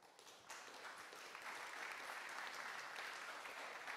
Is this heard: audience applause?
yes